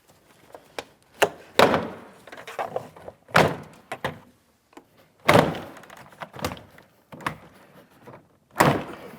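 Repeated sharp plastic snaps and thunks as a plastic trim tool pops clips loose from a 2007-2014 GMC Sierra 2500 HD rear door panel, spaced irregularly with quiet scraping between them, close up.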